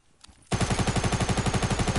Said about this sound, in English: I'm shooting, by the way.